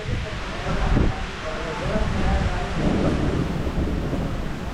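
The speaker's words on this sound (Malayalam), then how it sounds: "നല്ല മഴ ഇവിടെയൊക്കെ" Steady heavy rain pours down around a roadside vegetable and medicine shop during a downpour, a dense continuous wash with low rumbling wind-like noise throughout, and a voice speaking over it.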